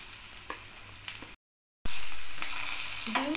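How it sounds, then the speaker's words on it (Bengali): Cut potato pieces frying in hot oil for a Bengali egg bhujia, a steady bright sizzle that drops out briefly to silence and then resumes loud with faint stirring scrapes. "তেল ভালো করে গরম হয়ে যাওয়ার পরে কেটে রাখা আলুর টুকরোগুলো দিয়ে দিলাম"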